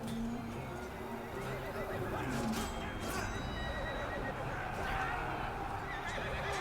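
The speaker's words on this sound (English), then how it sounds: "See the horse kicks" A horse whinnies loudly twice over a busy battle din of clashing and rumbling in the video game Total War: Three Kingdoms, with hoofbeats and a voice faintly in the mix.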